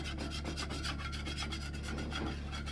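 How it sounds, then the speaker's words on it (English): A metal spatula scrapes and scoots under cheesesteak meat on a hot grill, a steady run of close rasping strokes over a constant sizzle and low hum. "You can just scoot your spatula under it, that's all you really have to do."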